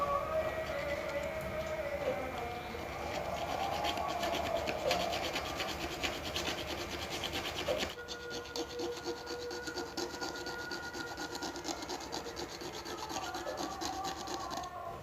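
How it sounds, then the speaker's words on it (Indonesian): A metal file rasps back and forth across the steel tip of a handmade fish hook for snakehead fishing, a steady close scraping rhythm that runs throughout, easing slightly after a brief pause midway. "kita mulai proses agar mata kailnya tajam bosku, dengan menggesekkan kikir di ujung besi bosku"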